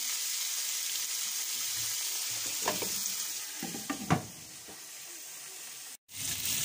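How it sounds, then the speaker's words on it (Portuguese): Salted pork belly fries in its own fat in a pot, producing a quiet steady hiss with a few louder clatters of stirring in the middle before a brief dropout. "Vamos deixar isto bater um pouco a sua gordura, fritar aqui um pouquinho"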